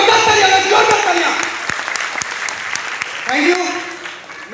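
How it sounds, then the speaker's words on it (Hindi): Audience at a business motivational gathering clapping steadily, a dense close patter of many hands that swells, eases slightly and picks up again near the end. "श्रीमान भूरे सिंह यादव जी का जोरदार तालियां"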